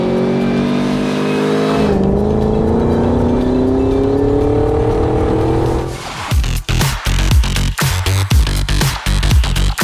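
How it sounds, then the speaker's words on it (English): A restored 1991 Land Rover Defender 110 with a 650 HP LT4 V8 and 8-speed automatic holds a loud steady drone that slides lower, then breaks into sharp, choppy revving bursts close to the microphone. "This 110 is powered by our LT4 engine, 650 horsepower, with 8-speed automatic transmission."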